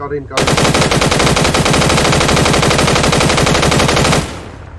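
Sustained rapid automatic gunfire in the military video game Arma 3, loud and close, one continuous burst of evenly spaced shots lasting about four seconds before cutting off abruptly.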